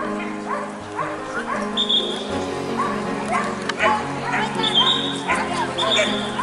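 Many dogs bark and yip at a crowded dog show, the barks coming in repeated bursts from near and far over a steady low crowd hum, with people talking throughout.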